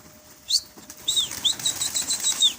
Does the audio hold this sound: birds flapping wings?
yes